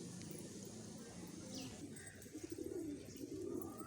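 Pigeons coo softly in low, throaty bursts, with faint chirps and background noise around them.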